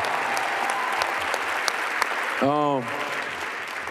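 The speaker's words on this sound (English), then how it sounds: "First of all, we gotta give her a round of applause." Applause after a live performance during a 2018 interview, a steady wash of clapping from the room, with a brief sung or voiced phrase cutting through partway.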